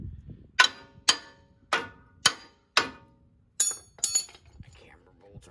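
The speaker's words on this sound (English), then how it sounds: "You can try to tap this in all different directions." Metal tapping on front steering components of a 1997 Ford F-150 to seat them, about seven sharp ringing hammer strikes at a slow, steady pace, close and clear, with a little quiet speech.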